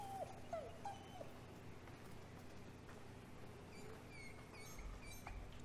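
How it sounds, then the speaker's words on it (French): A dog in the video game Somerville whimpers in a few faint, high, thin whines early on. A steady low rumble of ambience runs underneath, with a few scattered small sounds later. "Est-ce que le chien essaye de me dire quelque chose?"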